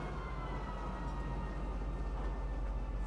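A train arriving at Leeson Station in the Star Citizen video game, a steady low rumble and hum of the rolling carriage, continuous and fairly close, with no talking.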